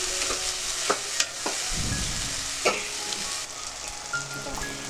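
Spices being stir-fried in a pan for chanar dalna, a soft continuous sizzle punctuated by a handful of crisp clicks and scrapes from the spatula, heard close and without speech.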